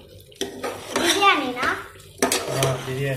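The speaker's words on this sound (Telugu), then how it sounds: "కారం వేసి అయితే ఇవన్నీ కలుపుతాను" Mutton curry with chili powder being stirred in a pot, with metal spoon scrapes and clanks against the vessel in a few uneven bursts while people talk nearby.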